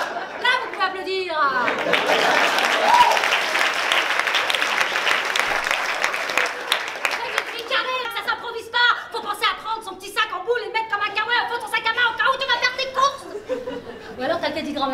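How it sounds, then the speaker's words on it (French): A comedy show audience breaks into loud applause mixed with chuckles and scattered laughter, the clapping peaking early then thinning into laughs and a voice speaking over the tail. "Là, vous pouvez applaudir."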